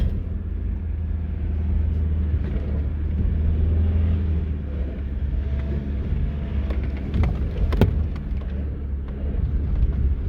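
A 4x4 driving on a desert track in Morocco, a steady low engine rumble with road noise throughout, close and continuous, with a few rattling knocks near the end.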